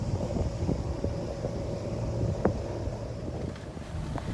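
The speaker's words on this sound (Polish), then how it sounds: "Znajdujemy się już na promie, na stateczku tak naprawdę." Wind sweeps across the upper deck of a Greek passenger ferry heading to Spetses island. A continuous roaring gust noise sits over a low hull and engine hum, with a few faint clicks and knocks.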